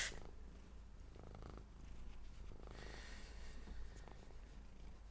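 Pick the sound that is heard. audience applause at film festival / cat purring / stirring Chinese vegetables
cat purring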